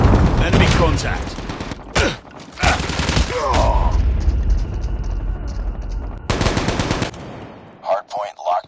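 Rapid automatic gunfire bursts from the video game Call of Duty Mobile, loud and close, in several dense volleys separated by short gaps, with game voice lines in between.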